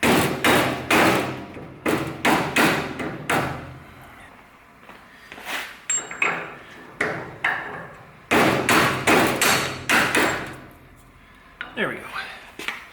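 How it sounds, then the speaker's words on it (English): A soft mallet taps a front hub into place on a Daytona Coupe build, two bursts of rapid, firm, heavy thuds repeated in quick clusters, close and loud, with quieter knocks and brief muttering between them. "tap with a soft mallet. So yeah, I'm thinking more than a light tap."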